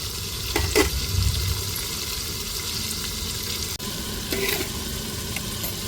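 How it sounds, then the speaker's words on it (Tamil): Tomatoes fry in a pan for coconut milk rice, giving a continuous close sizzle with a few bursts of stirring and scraping and a brief dropout midway, with no speech. "தக்காளி சேர்த்துக்கிடுவோம் தக்காளி நல்லா வதங்கட்டுங்க"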